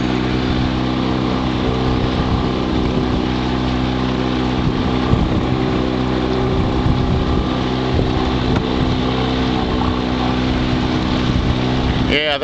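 A motorboat drives through flooded woods at Bayou Meto, its outboard engine a loud, close, constant drone with wind buffeting the microphone, steady throughout with no letup.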